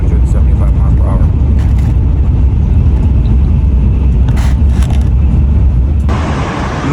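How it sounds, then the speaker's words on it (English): A Shinkansen bullet train running at high speed, heard from inside as a loud, steady low rumble and roar that thins out near the end. "Man, you guys hear that train? It's hollering."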